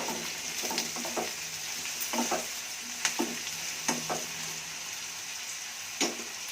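Cauliflower and other vegetable kurma ingredients fry in a pan while a spoon stirs them, giving soft sizzling and intermittent scraping clicks, fairly quiet and close, with no talking.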